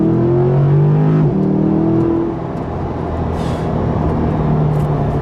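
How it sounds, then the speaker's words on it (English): A C8 Corvette launching with launch control, its engine note rising then dropping as it shifts before pulling on in a steady roar, loud and close with no talk. "you've wondered what it's like to launch a C8 Corvette"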